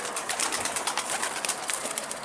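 A game pigeon arrives, giving soft repeated coos and chirpy calls. The sound is faint, slightly distant and continuous over outdoor background noise, with no talking.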